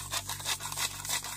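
Black pepper being ground at an outdoor cooking stop on a gravel-road trip, a close, rhythmic rasping grind of about half a dozen short scraping turns.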